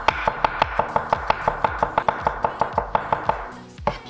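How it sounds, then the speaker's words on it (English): A garlic clove minced finely with a knife on a cutting board, steady rapid chopping of about five crisp knocks per second, close and clear with no talking. "We're just gonna make this really, really finely minced."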